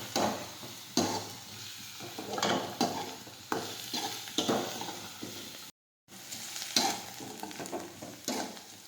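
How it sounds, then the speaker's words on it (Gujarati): Green onion curry stirred in a frying pan, a steady sizzle broken by repeated scraping and stirring strokes at close range, with a brief dropout partway through and no talk. "હવે થોડી વાર ફેરવશું."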